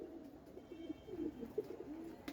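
A zira gola pigeon coos softly nearby, a series of low, faint rolling calls in a quiet setting.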